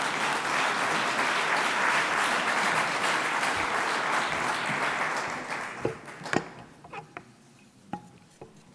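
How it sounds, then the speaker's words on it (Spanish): Loud, dense applause from a large audience welcoming a university rector at a formal ceremony, sustained for about six seconds before thinning into a few scattered late claps. "Recibimos con un fuerte aplauso también al rector don José María Vázquez."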